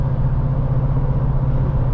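A Toyota Tundra TRD Pro with a 5.7-litre V8 runs with a steady, deep low rumble, constant and close, with no voices over it.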